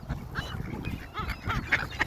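Ducks and seagulls squabble over food nearby, a tumble of quacks, honks and sharp squawks in irregular bursts, moderately faint and unbroken by talk.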